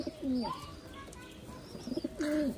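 An old-breed Khulna highflying pigeon coos nearby in gliding, wavering calls, a couple early and a cluster near the end, with faint chirps around.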